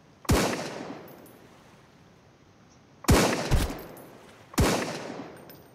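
Three separate rifle gunshots from Sunkenland, each a loud sharp crack with a decaying tail, the first alone and the last two about a second and a half apart, with little else around them.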